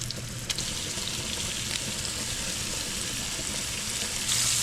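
Flour-dredged scallops searing in a hot pan, a steady close sizzle and crackle of frying that holds evenly throughout and swells slightly at the end.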